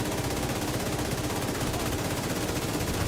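Heavy ammunition fires in a video game as a dense, continuous roar of rapid gunfire and blasts. It stays loud and unbroken throughout, with no talking.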